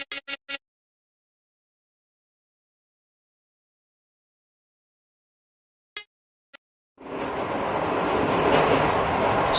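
A metro train in the video game Hitman 2: Silent Assassin roars in and rumbles steadily and loudly for the last few seconds. It follows a few short clicks and a long stretch of silence.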